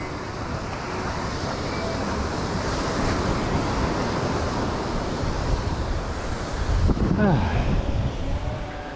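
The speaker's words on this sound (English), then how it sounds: "Such a beautiful, peaceful beach." Surf rolls onto Parque Colón beach in Aguadilla, a steady, loud wash of breaking waves mixed with wind buffeting the microphone, with a brief swell of louder water near the end.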